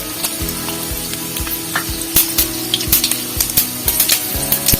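Urad dal, mustard seeds and fenugreek seeds fry in hot oil, giving a steady, close crackling sizzle with dense sharp pops and spits throughout, loud and continuous, no voices.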